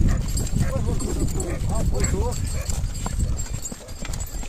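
A horse's hooves clip-clop on a cattle farm while dogs bark and yip, steady close hoofbeats mixed with animal noise as people talk over it.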